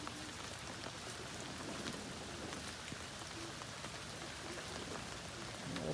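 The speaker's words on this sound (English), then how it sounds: "And it started raining so hard." Heavy rain pours down steadily in a dense, even hiss of drops on surfaces outdoors, constant and close with no pauses.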